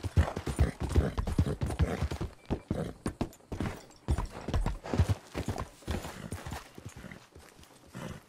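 Horse hooves clip-clopping in Red Dead Redemption II, a string of close, uneven hoofbeats with a brief whinny-like tone, steady walking rhythm throughout.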